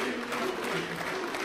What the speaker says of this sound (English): Oh, people cheering for Huni so far.